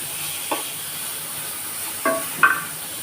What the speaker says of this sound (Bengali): আমি এই কাঁচামরিচ, পেঁয়াজ, রসুনগুলো আমি সুন্দর করে ভেজে নিব।